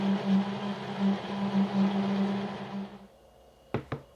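A kitchen blender whirs steadily while blending raw egg, tofu and water into smooth okonomiyaki batter, a loud continuous motor hum for about three seconds, then it cuts off and two sharp knocks follow.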